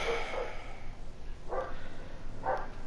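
A dog barking somewhere in the background of a quiet room, three separate short barks spaced about a second apart, each faint and somewhat muffled.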